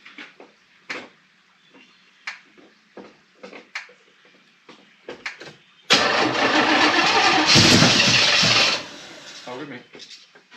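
A Chevrolet El Camino with fuel being fed to the carburetor cranks briefly and then fires into a loud, rough engine roar lasting about three seconds before cutting out, with people talking nearby before and after.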